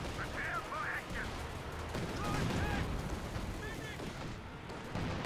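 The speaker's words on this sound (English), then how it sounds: "Katusha barrage is coming in" A Katyusha rocket barrage in the Company of Heroes 2 video game, with rapid overlapping booms and whistling rocket streaks of battle audio, moderately loud under continuous game commentary.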